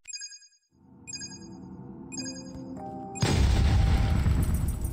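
Explosive device detonating in the pixel-art survival video game Fury Survivor: Pixel Z, a single loud booming blast that follows a few short electronic tones and rumbles on for almost two seconds.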